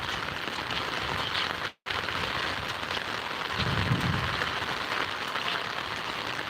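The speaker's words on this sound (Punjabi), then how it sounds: "ਦੇਖੋ ਜੀ ਮੀਂਹ ਬਹੁਤ ਜ਼ਿਆਦਾ ਹੈ ਜੀ" Heavy rain pours steadily over an orchard, a dense, even hiss with one brief dropout near the start.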